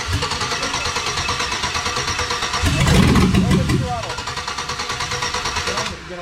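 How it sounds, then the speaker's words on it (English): A starter motor cranks the V8 swapped into a Jeep Comanche pickup, a steady rapid churning that swells louder midway before settling back, with people talking over it. "That's a starter."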